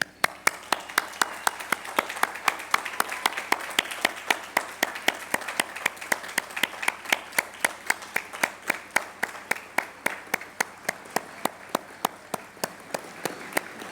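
A graduation commencement ceremony crowd claps steadily, with dense, even applause and sharp individual claps repeating throughout, moderately distant and continuing without a break.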